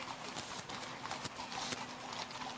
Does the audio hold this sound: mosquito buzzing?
no